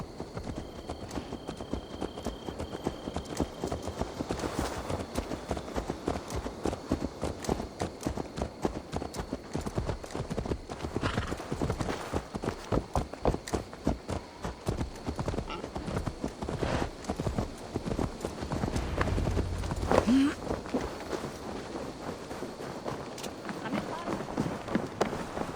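Horse hooves gallop in the video game Assassin's Creed Valhalla, a steady, fast clip-clop rhythm under continuous in-game ambience that runs the whole time at moderate loudness.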